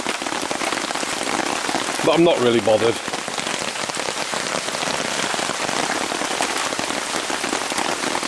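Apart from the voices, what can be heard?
rain falling on tin sheet over campfire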